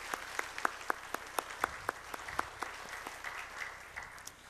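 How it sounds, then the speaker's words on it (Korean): A church congregation at a Wednesday service claps in thanks, sharp individual claps standing out rhythmically over a softer spread of applause across the room. "감사의 박수 하겠습니다."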